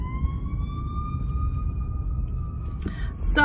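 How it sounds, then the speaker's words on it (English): An ambulance siren sounds as a single steady, slowly rising wail that sustains for nearly three seconds over low road rumble, close and fairly loud, then breaks off into a brief clatter. "Pull over here. Ambulance coming."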